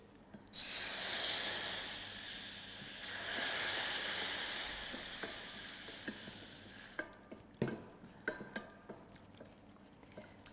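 Loud, bright sizzle and steam hiss as liquid is slowly added to hot browned flour roux, dying away after several seconds into scattered taps and scrapes of stirring.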